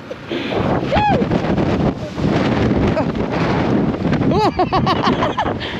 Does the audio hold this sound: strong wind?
yes